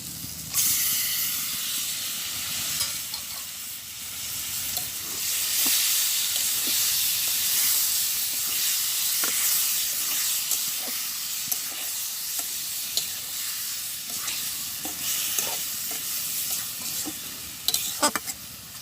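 Bombay duck fish frying in a pan in a village kitchen, a loud continuous hissing sizzle with scattered pops and scrapes of stirring, close and without talk.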